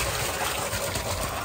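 Cold water from a farm motor pump gushes steadily in an outdoor field setting, a continuous broad splashing rush with no pauses and no talk over it.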